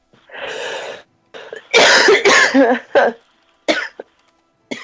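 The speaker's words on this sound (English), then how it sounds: "Killing everyone tonight with coughs." A person coughs hard several times in irregular bursts, some harsh and rattling, close to the microphone, with short pauses between.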